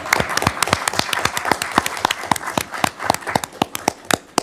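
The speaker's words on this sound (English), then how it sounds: "That's a round of applause" A small crowd at a city council meeting applauds an award recipient, with distinct, scattered hand claps in an uneven rhythm that stay fairly close and moderately loud.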